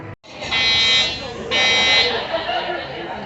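A harsh electronic buzzing alarm sounds in long bursts, stopping briefly and restarting, with crowd chatter and background noise beneath it.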